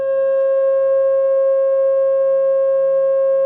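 A pure, steady 540 Hz sine tone representing a pentagon in a sacred-geometry garden lesson, sounding alone and unchanging, loud and clear throughout.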